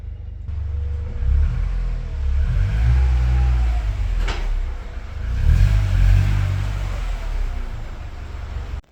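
A VW Golf Mk3 engine under acceleration, a steady low rumble that rises and swells twice with rising drone tones, close and fairly loud, with a brief sharper noise in the middle.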